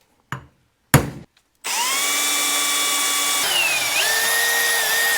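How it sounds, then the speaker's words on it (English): A power drill bores a hole through the trunk floor of a 1991 Honda Accord, preceded by two brief knocks, then a loud, close, steady whine that shifts pitch as the bit cuts through. "Okay, so we drilled the hole."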